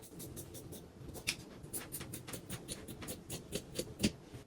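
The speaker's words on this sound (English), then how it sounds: "First, we're going to cut these sleeves off." Scissors snipping the sleeves off a thrifted floral dress, a close, quiet run of rapid crisp cuts and fabric rustles in a steady irregular rhythm, with no talking.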